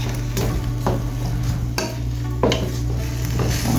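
Leftover fried jerk fish sautéing in a pan: a steady sizzle with scraping stirs and light utensil knocks against the pan, close and continuous throughout.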